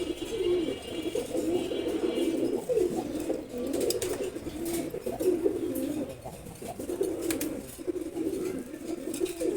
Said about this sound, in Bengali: দুইটা কবুতরই খুব সুন্দর